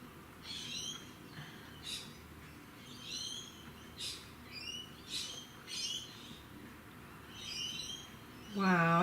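A pet bird calling indoors, a series of short high chirping bursts repeated at irregular intervals, fairly faint, with a louder voice-like sound at the very end.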